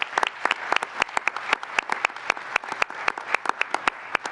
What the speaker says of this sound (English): let's give Steve one more big round of applause.